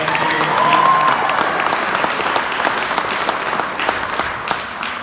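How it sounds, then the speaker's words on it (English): An audience applauds after a dance performance, a loud, sustained burst of clapping from a crowd close at hand, gradually thinning toward the end. "Let's give a round of applause for that"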